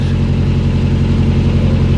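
Narrowboat engine running at higher revs while cruising a canal, a loud, steady low-pitched throb close by with no voices.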